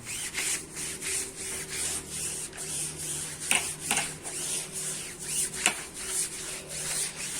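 A zebra roller blind curtain being scrubbed with detergent, with rhythmic rubbing and brushing strokes against the fabric, fairly faint and steady with a few sharper scrapes.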